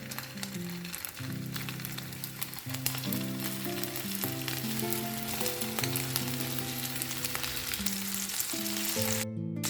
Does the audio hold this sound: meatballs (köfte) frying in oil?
yes